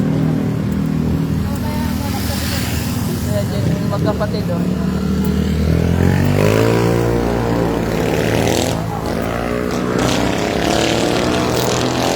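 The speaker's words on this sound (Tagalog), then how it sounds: "Ay, may motor sa likod." A motor engine rumbles close by, its pitch rising and falling as a motorcycle draws near, while people talk over the engine noise.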